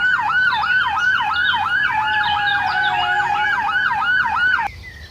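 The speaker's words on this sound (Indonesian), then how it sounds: "Keluarlah mobil ambulan." A toy ambulance wails with a steady, rapidly cycling electronic siren, loud and close, repeating evenly for several seconds before cutting off abruptly near the end.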